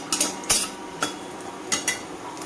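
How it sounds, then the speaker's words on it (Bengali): Urad dal bori dumplings frying in mustard oil in a pan, heard as a few soft scattered clinks and stirring scrapes over a low steady sizzle, close by, with no talking. "প্রথমে আমি এই কটা বড়িকে ভেজে নিচ্ছি।"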